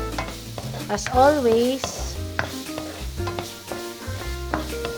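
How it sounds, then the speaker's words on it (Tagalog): Garlic frying in a pan for adobong pusit, a close sizzle with stirring scrapes while someone talks and pots clink. "we thoroughly cook the garlic"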